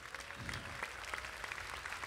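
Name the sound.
audience applause at a jazz concert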